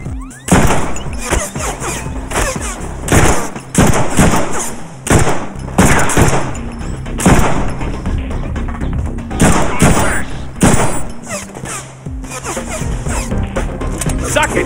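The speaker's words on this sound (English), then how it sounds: "Over there, open fire!" Loud, dense bursts of gunfire from a Deadpool movie action scene, rapid shots and crashing impacts repeating over about fifteen seconds with brief pauses between volleys.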